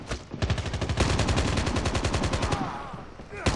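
Rapid automatic gunfire from a Call of Duty deathmatch mod rattles out in a dense burst of repeated shots, loud and steady for about three seconds, with a final shot after a brief pause.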